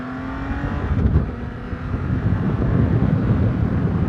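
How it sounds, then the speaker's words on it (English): A BMW K1600B Grand America motorcycle engine revs up and accelerates, a rising mechanical drone mixed with rushing wind noise. "Does this bike deliver that fun factor?"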